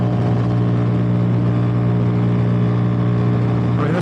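A 2023 Ducati Diavel V4 motorcycle cruises on a freeway on a cold 44°F morning, its engine giving a loud, steady drone under heavy wind roar at constant speed, with no talking.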